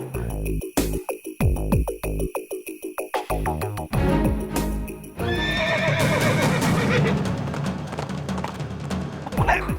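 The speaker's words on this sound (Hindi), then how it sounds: "थाने के पीछे 2 घोड़े खड़े हैं, आप दोनों उस पर बैठ के भाग जाओ।" Horses whinny loudly and close, with hooves clip-clopping in quick rhythm, then break into a fuller galloping rush with more neighs layered over it, loud and sustained to the end.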